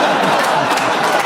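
A studio audience claps and murmurs loudly, a dense wash of applause filling the moment at a radio comedy panel show recording.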